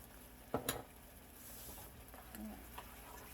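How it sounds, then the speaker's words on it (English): Flat spatula scraping through pepper-seasoned gravy with cube steak in a skillet, a couple of close scrapes over a low steady sizzle, then softer stirring. "Just keep stirring it with your flat, kind of make a motion underneath your meat like that."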